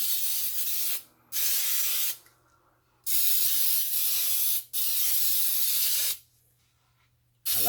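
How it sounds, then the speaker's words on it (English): Baker's Joy baking spray hisses onto a cake pan in four loud bursts of one to two seconds each, with short quiet pauses between them, heard up close. "we're gonna also come in and spray it down with some Baker's Joy as well"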